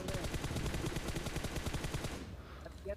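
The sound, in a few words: gunfire in the video game Battlegrounds Mobile India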